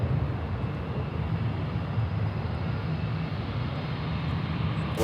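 A Boeing 777 from Rome lines up on runway 36 right, its engines a steady, distant low rumble with no talk.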